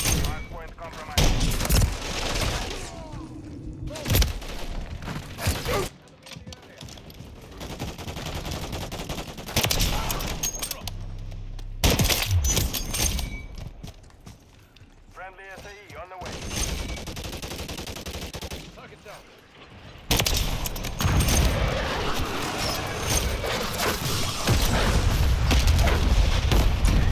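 Rapid automatic gunfire and bursts in Call of Duty Modern Warfare III multiplayer, loud and near, with explosions and booms mixed in, game announcer callouts and players talking throughout.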